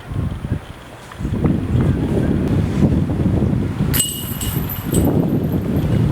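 Wind gusting across an open disc golf course, a steady broad rumble of buffeting against the microphone with a sharper gust near the middle, no talk.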